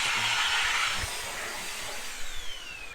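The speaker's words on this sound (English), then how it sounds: "All that vacuuming right there on the carpet, which was a really quick one." A HiKiNS handheld vacuum cleaner runs on carpet with a steady, high-pitched motor whine that slowly eases off, with a few faint bumps near the end.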